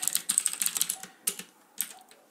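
Quick bursts of light clicking on a computer keyboard as a file is renamed, several rapid runs of keystrokes separated by short pauses, close and quiet.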